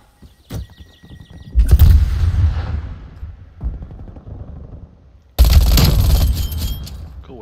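Bursts of gunfire in a multiplayer shooter: a sharp early crack, then a loud volley fading out, a quieter patter, and a final loud burst near the end.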